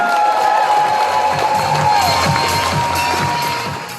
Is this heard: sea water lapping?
no